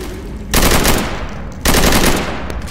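Two loud bursts of rapid automatic gunfire in the Left 4 Dead 2 video game, fired to break open a gate. Each burst lasts about a second and is heard up close with no talk over it.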